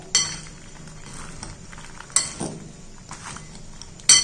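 Makhana, peanuts and salt being mixed together in a pan or bowl, making light rattling, scraping and clinking strokes at close range, with a few sharper utensil knocks and no talking.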